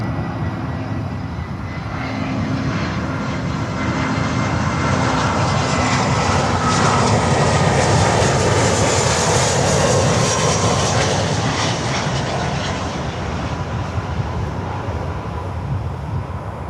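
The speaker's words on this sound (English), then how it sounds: "Estafeta Carga on runway 9." An Estafeta Carga cargo airplane rolls along runway 9 at Miami airport, its engines giving a loud, steady roar that swells gently and holds for the whole stretch, with no voices.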